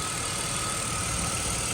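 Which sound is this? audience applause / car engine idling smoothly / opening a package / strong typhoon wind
car engine idling smoothly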